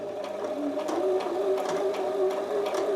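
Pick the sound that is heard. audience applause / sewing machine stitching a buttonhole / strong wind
sewing machine stitching a buttonhole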